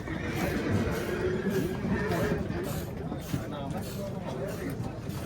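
A young horse, a year-and-a-half-old colt at a horse market, neighs amid steady crowd chatter and nearby talk, the whinny mixed into the market babble.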